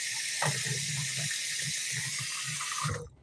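Water pours out in a steady, hissing stream that runs loud and continuous before cutting off abruptly near the end, with faint low knocks and movement underneath.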